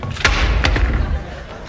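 An old wardrobe door falls off and lands with a couple of close, heavy wooden thuds in a cluttered room, with a brief voice nearby.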